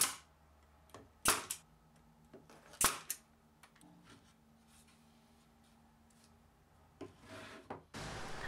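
Trimming the base of a homemade wooden press gives sharp, brief cutting and scraping strikes, a few loud bursts scattered between quieter rubbing, close by in a quiet workshop, ending in a sustained rasping passage.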